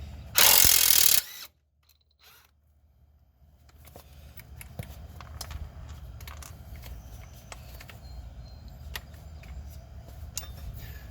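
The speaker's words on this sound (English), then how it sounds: "My impact is a little too beefy to fit in here with the normal straight socket, so I got my wobble adapter on" An impact wrench with a wobble adapter hammers on a front upper control arm bolt of a 2003-09 Toyota 4Runner in one loud, short burst. Quieter ratcheting and clicking from tools follows.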